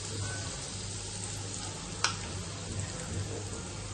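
Mustard seeds, cumin and asafoetida sizzle steadily in hot oil for a tempering, a continuous frying hiss with a single sharp crackle midway and a low background hum.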